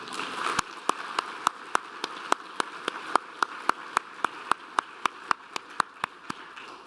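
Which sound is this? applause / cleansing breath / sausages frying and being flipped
applause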